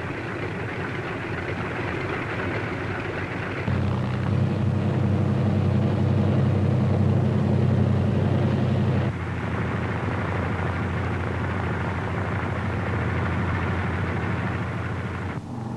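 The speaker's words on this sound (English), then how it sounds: "other C-47s move into position for their takeoff at the head of the runway" Several C-47 transport aircraft taxi into position and take off from a runway on D-Day, June 6, 1944; a steady, loud radial-engine drone swells to a heavier roar midway, then settles back to a continuous hum.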